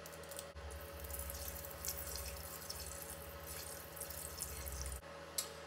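Liquid squirted from a bottle into a mixture for homemade three-ingredient natural cough medicine, a steady close watery flow lasting several seconds, alone without talk.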